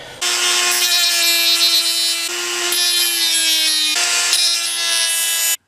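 A knife blade is ground on a powered sharpener, producing a loud, close, high-pitched metallic whine in three continuous passes with brief shifts in pitch between them, then stopping abruptly.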